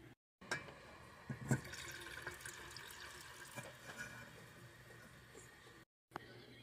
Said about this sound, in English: Now we've got 3/4 cup of red wine vinegar that we're going to add to the pan.